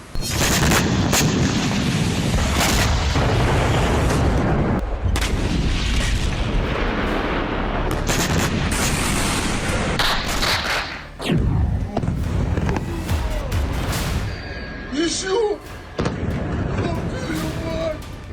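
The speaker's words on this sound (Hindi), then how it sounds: "रूस ने सिर्फ एक मिसाइल लॉन्च की और एक के बाद एक जमीन हिला देने वाले ऐसे 26 धमाके हुए।" A barrage of heavy blasts from a Russian missile strike, with booming, gunfire-like bursts following one after another almost continuously, loud and dense, with a few quieter gaps near the end.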